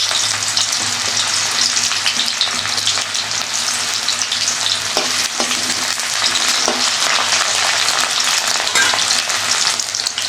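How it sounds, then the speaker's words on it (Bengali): Chopped onion sizzling in hot oil in a home kitchen pan, with steady loud frying hiss for the whole stretch and a few stirring clicks now and then, no voices. "একটা পেঁয়াজ কুচি দিয়ে দিলাম।"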